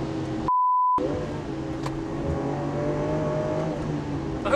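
Lamborghini Aventador V12 engine pulling through a gear on track after a large gear-shift change, a steady loud drone climbing slightly in pitch, with a brief electronic beep near the start.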